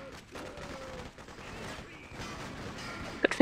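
Gunfire in Freedom Fighters rattles in dense, continuous bursts amid battle noise, fairly muffled, with a few sharper cracks near the end.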